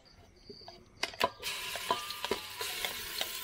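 Ground masala from the mixer tipped into hot oil for chicken curry over a village wood fire, a few sharp clatters and then a sudden bright sizzle that keeps crackling at close range.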